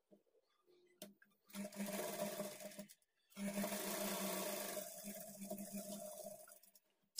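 A sewing machine stitches a plain blouse in two sustained runs separated by a short pause, close and steady with a humming motor and rapid needle rhythm, no voices.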